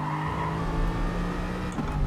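Tyre squeal from a racing car lapping Tsukuba in the GT Sport video game, a steady sustained screech layered over continuous engine drone, loud and close throughout with no talking.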